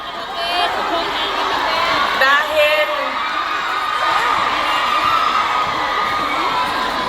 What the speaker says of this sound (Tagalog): Dahil kayo ay sumisigaw ng Duterte, suspended na kayo lahat bukas.